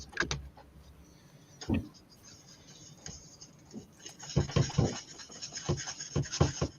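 Worn sandpaper rubs in short, rasping strokes, scattered at first and then in a quicker run of close, scratchy passes.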